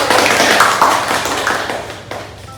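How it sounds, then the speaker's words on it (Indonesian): A short burst of hand clapping from a small group, dense and close at first, then thinning and fading over about two seconds. "Yuk beri tepuk tangan untuk kita."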